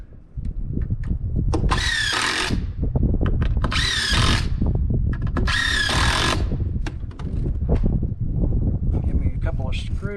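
A power drill drives screws into wood on a castle build, three long whining bursts rising and falling with rattling, clattering handling sounds between them.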